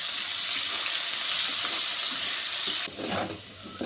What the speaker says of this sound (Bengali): দিয়ে দেবো একটু হলুদ গুঁড়ো, দিয়ে আলুটিকে ভেজে নেব